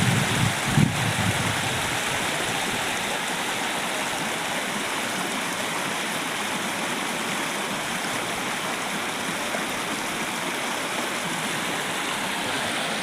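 Floodwater pours out of a brimming village tank after rain, a loud, steady rushing roar like a waterfall that runs unbroken from start to end.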